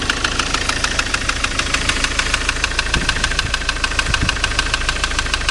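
A 2007 Ford Transit engine with an unidentified mechanical knock, a loud, close, fast regular ticking-knock repeating evenly over a steady idle, with no speech.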